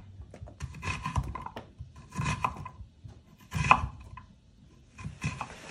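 Upo gourd being sliced with a knife on a board for ginisang upo, a series of soft uneven chopping taps spaced through the moment, close and fairly quiet, with no talking.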